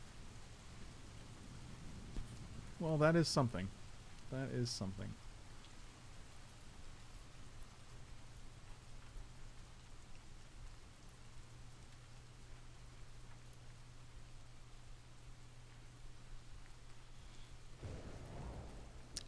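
Soft, steady rainfall hisses quietly in the background for the whole stretch, while someone briefly speaks over it early on.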